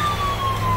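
An ambulance siren wails inside the video game GTA 4, a steady, loud tone sliding slowly downward over a dense background of engine and street noise.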